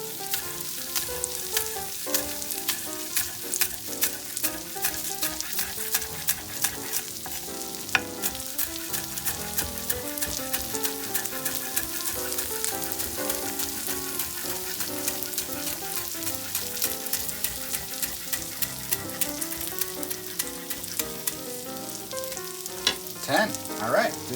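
A parmesan-crusted omelette cooks in a pan over low heat with green onions, giving a steady, close sizzle and crackle that runs unbroken throughout with no voices.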